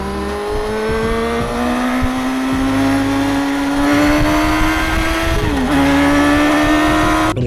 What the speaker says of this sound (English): record that engine sound